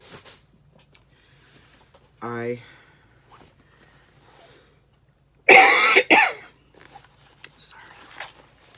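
A burst of harsh coughing, close and loud, after a brief rustle; quiet background with faint murmurs around it.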